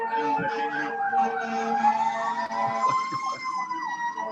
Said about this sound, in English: that's a fire truck going by up here